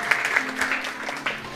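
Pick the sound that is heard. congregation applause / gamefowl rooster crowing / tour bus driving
congregation applause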